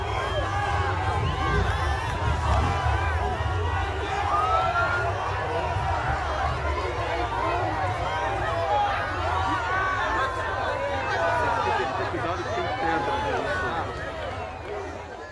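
A large street crowd boos and jeers at Bolsonaro, a dense, continuous roar of many overlapping shouting voices at close range throughout.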